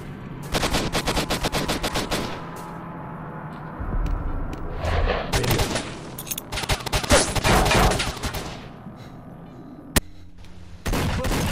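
Video-game combat with rapid machine-gun bursts and repeated gunshots, plus heavier artillery and grenade blasts, loud and dense in several waves with a sharp single crack near the end.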